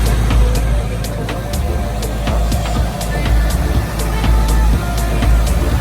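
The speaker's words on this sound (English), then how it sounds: "it runs like a watch, like a brand new" A 2016 Ford Mustang 5.0 GT V8 idles steadily after an engine knock repair, a low continuous rumble with faint regular ticking, no voices over it.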